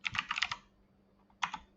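Typing on a computer keyboard while drawing in CAD software: a quick burst of several keystrokes, a pause, then another short cluster of taps, close and fairly quiet with no talking.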